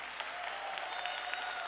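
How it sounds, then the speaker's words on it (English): Audience applause at a Saturday morning forum, steady dense clapping from a crowd throughout the short stretch, with no voices. "Please hold your applause."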